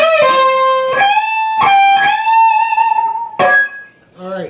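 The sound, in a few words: electric guitar lick, last measure of a solo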